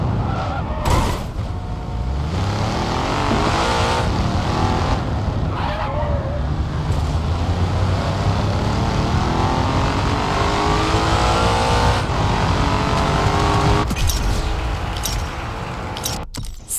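Race car engine in a racing video game cornering at speed: a sustained loud engine whine with rising and falling pitch sweeps as it shifts through corners, punctuated by brief sharp effects.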